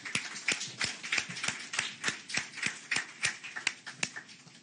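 A small group claps in a loose, uneven rhythm, with sharp, distinct claps spaced about a third of a second apart, welcoming the president of the Congolese football federation at a football club event.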